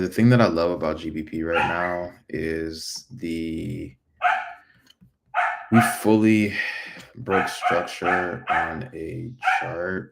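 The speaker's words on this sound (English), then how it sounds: "I apologize if you guys can hear the barking in the background" A dog barks in the background, mostly masked by someone talking steadily over it during a live market analysis stream.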